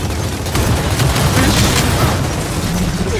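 A rocket launcher fires in the shooter game Gears of War 4, producing a loud, dense burst of booming blasts and rumbling explosions that fill the moment without any talk.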